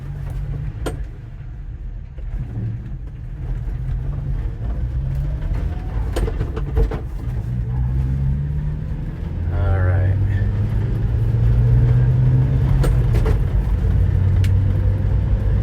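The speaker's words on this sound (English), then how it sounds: "Now we are in fourth gear and we're going to be climbing a hill" A Subaru fire truck loaded with equipment climbs a hill in fourth gear, its engine a steady low drone that grows heavier partway through. Someone talks over it.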